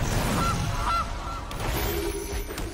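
A cartoonish goose honks twice from the Gilded Goose card in the video game MTG Arena, short nasal calls over a loud, bassy game background, followed by a steadier tonal effect.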